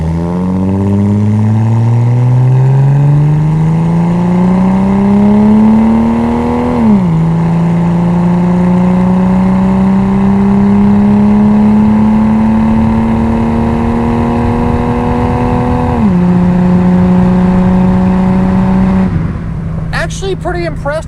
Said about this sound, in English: that aftermarket muffler sounds really good